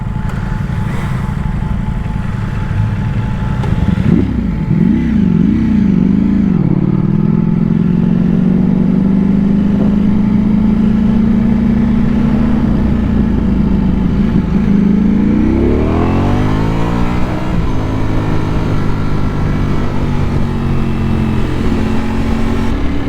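A 1000cc road motorcycle on a ride. Its engine growls loudly and steadily, surges through a few quick revs, then climbs in a long rising sweep as the bike accelerates hard, with steady wind and road roar underneath.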